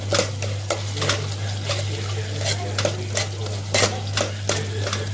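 Tomatoes cooking down in a pan are stirred with a spoon, giving repeated close scraping and clinking strokes over a soft simmer and a steady low hum.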